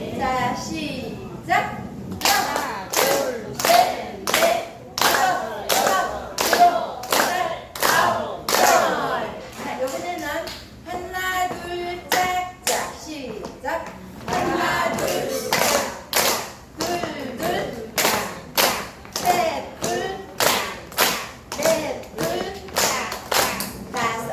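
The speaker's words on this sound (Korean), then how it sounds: "박수를 치는데 하나, 둘 목소리를 세면서 박수를 쳐주세요. 열 번." A group of elderly people at a day-care exercise class clap hands in unison while counting aloud, sharp rhythmic claps in regular bursts mixed with their chanted voices.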